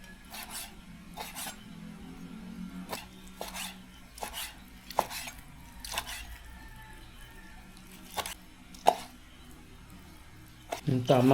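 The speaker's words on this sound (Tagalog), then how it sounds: "Okay, pwede na natin hanguin to at hiwain para umpisa na natin." Cooked meat for papaitan chopped on a cutting board, with repeated sharp knife thuds at an irregular pace, close, mixed with scraping and a voice briefly at the end.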